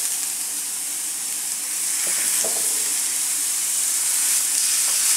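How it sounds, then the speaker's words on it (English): Beef slider patties sizzle steadily in a hot pan as they are mashed flat, a constant close frying hiss broken by a few brief scraping clicks from the spatula. "I'm going to put these in the pan. I'm going to mash them down."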